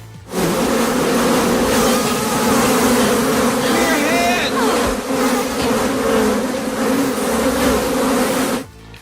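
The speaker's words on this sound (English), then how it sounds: "It turned out they were filming the infamous bee colony scene, which features Mulder and Scully running from thousands of swarming bees." Dense, loud buzzing of thousands of swarming bees from a film-set bee colony scene, a steady drone that holds for nearly the whole stretch before cutting off abruptly.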